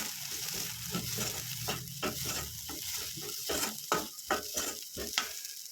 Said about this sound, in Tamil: நல்லா கிளறி விட்டுக்கலாம்.